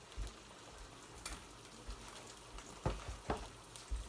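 Quiet, steady sizzling of an egg frying in a buttered pan, with a few soft clinks and taps scattered throughout.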